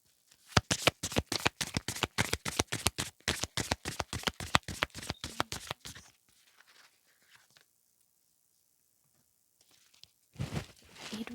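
A deck of affirmation cards is riffled in a fast, rhythmic run of crisp, close slaps lasting about six seconds, then a near silence and a brief soft rustle of cards at the end.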